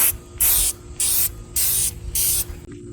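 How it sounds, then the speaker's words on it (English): A spray paint nozzle hisses in four short, loud bursts with brief pauses between them while painting a Ford F150 tailgate emblem, close up over a low steady hum. "this spray nozzle really not the best"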